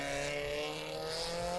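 Car engines in the horror video game VHS Slaughter, a steady droning motor tone with a faintly rising pitch, fairly quiet and heard alone in a short burst.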